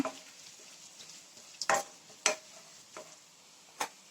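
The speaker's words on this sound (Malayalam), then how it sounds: "നമുക്കതിലേക്ക് വറ്റൽമുളക് എരിഞ്ഞു വെച്ചിരിക്കുന്നതും കൂടി ഇട്ട് കൊടുക്കാം" Garlic, curry leaves and dried red chillies fry in oil for a restaurant-style beef curry, giving a soft, steady sizzle broken by a few sharp spoon scrapes and clicks against the pan. No one speaks.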